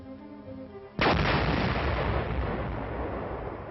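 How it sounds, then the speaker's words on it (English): A mine detonating in an army training minefield, a single loud blast about a second in that decays into a long rumbling roar, heard over a faint musical background. "groups of men pass through minefields, mark or detonate the mines"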